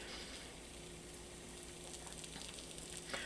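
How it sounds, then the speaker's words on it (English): A crumb sizzles slowly in hot oil for squash fritters, a faint, steady crackling frying sound with light pops, heard alone. "It's sizzling, but it's a slow sizzle."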